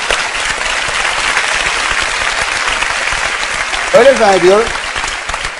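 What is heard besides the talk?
studio audience applause on Beyaz Show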